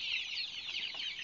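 KUB chickens about one month old cluck and chirp in a dense, continuous flock chorus, close and steady, with no talking.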